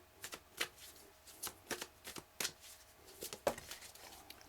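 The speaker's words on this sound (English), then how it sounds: "Let me just get another card for that Seven of Swords" Tarot cards shuffled by hand in a quick, uneven series of crisp riffling bursts, close and fairly quiet, with no talk over them.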